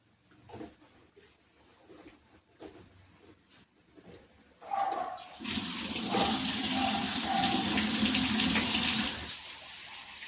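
Tap water runs into a vessel as something is washed for a curry, starting with a few light splashes and clinks, then a loud, steady gush of running water for several seconds before easing off.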